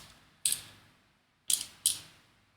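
A small screw, 2.3 by 6 mm, is driven into a plastic plate of a 1:2 scale model kit, giving three sharp ratcheting clicks: one alone, then two close together, near and with no talk.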